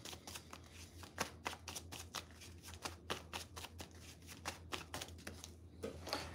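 Tarot cards being shuffled by hand, a rapid series of crisp riffling slaps and flicks with cards dropping and tapping down, close and fairly quiet over a low steady hum.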